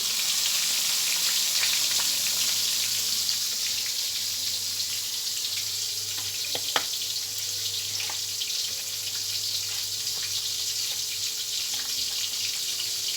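Steak pieces go into hot frying oil, giving a continuous broadband hiss that holds steady and fairly loud throughout, with a few faint clicks and no talking.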